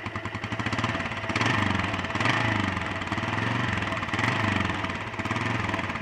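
A rebuilt Honda XL 350 motorcycle engine running after its first start, a steady rhythmic single-cylinder idle with loud pulsing exhaust beats and slight swells in revs, close to the microphone.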